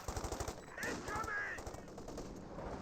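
Automatic gunfire from an M8 Scott in Company of Heroes 2 rattles in a quick burst, then gives way to a swelling explosive rumble and crackle, heard at a moderate distance under game ambience.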